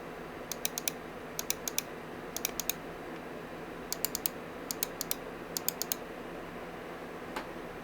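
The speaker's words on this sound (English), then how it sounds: "Here's an idea of what the system sounds like under full load with some mouse clicks for reference." Quick clusters of sharp mouse clicks tick over the soft, steady fan hum of a mini PC running under full load, the clicks coming in small bursts of three or four.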